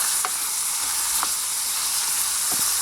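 Ground beef frying in a metal mess kit over low heat, giving a steady hiss and sizzle with a few faint scrapes of stirring.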